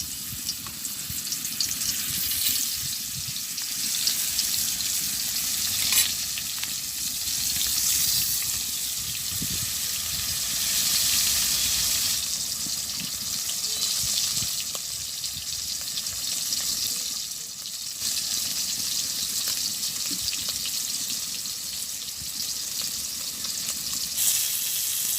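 Pieces of pangas fish fry in hot oil, giving a loud, continuous sizzle and crackle that holds steady throughout with no voices.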